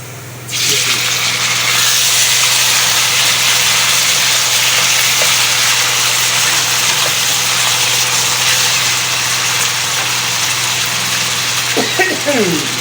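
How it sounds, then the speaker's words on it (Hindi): Tomatoes go into a hot pan of frying potatoes for aloo methi, and a loud, steady hiss of sizzling starts at once and holds close up. A few faint clinks sound near the end. "अब मैं इसमें शामिल करूँगी जी ये टमाटर"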